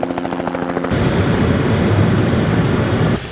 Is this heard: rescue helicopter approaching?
yes